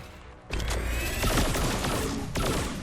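A burst of gunfire from Shen in XCOM 2 rings out after a short quiet moment, loud and close, a rapid volley of cracks trailing into echoing reports, followed by a second blast near the end.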